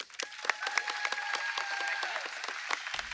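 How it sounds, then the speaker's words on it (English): An audience applauds and cheers at a White House event on national monuments, a steady spread of clapping with a few sharper whoops rising above it, fairly distant and without speech. "Who's cheering like that?"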